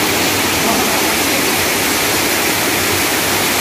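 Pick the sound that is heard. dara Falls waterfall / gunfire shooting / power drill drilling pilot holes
dara Falls waterfall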